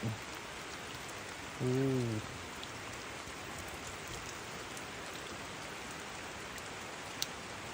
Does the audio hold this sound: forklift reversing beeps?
no